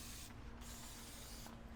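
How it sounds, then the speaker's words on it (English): Aerosol brake cleaner hisses in short bursts onto brake hardware on a 2020 Ford F450, two quiet sprays with a steady mechanical hum underneath and no talking. "Spray that with brake clean too,"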